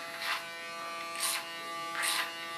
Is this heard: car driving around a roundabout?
no